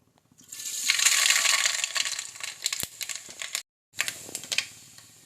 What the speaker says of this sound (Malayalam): നമുക്കതിലേക്ക് കടുക് ചേർത്ത് കൊടുക്കാം